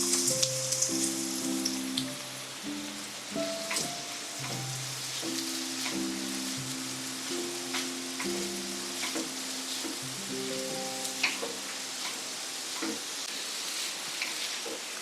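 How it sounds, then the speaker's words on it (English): Onions frying in hot oil on a high flame for a Goan egg curry, a steady close sizzle with crackling spits and occasional clinks of a utensil stirring the pan. "we'll first fry our onions."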